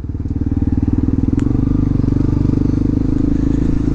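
A motorcycle with a rear wheel recently refitted with thicker 4 mm spokes rides along an asphalt highway, its engine a loud, close, steady throbbing drone with a rapid pulsing beat.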